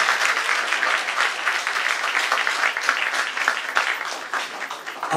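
Audience at a Black history event claps for a youth performing ensemble, a steady, lively round of applause with scattered sharper claps, continuing unbroken for several seconds.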